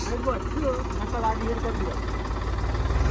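A tractor engine idles steadily throughout, a low, continuous rumbling drone with faint voices mixed in underneath.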